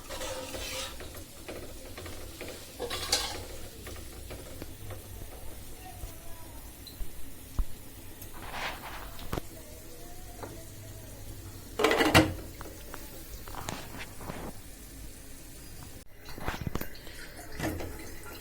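Spices and soaked ingredients are stirred and fried in a pan for a fish-and-carrot dish. A quiet sizzle runs under intermittent scrapes of a spatula, with a few louder stirring bursts along the way.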